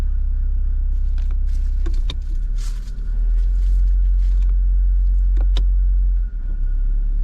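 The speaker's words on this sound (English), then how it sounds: "I'm just gonna do the old move the transmission through the gears just to get the fluid running through it" A Mazda car idles with a steady, loud low rumble while its automatic transmission is moved through the gears, with a few clicks and clunks from the shifter and cabin and short dips in the engine note.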